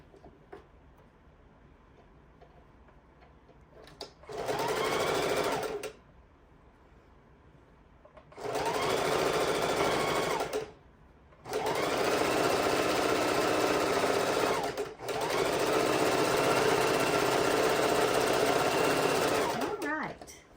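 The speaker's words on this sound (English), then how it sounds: "I just find it very easy to use my crafting machine anytime I'm going to be doing those multiple layers" A sewing machine stitches through multiple fabric layers of a Christmas stocking in three close, steady bursts of rapid mechanical whirring, separated by short quiet pauses.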